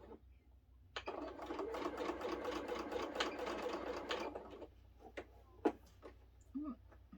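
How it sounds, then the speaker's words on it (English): Sewing machine stitching a quilt block, a steady run of rapid needle strokes lasting about four seconds, close and fairly loud, followed by a few isolated clicks and light handling noises. "And I'm going to sew."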